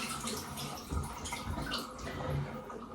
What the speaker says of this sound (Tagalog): Tapon muna natin itong tubig ha.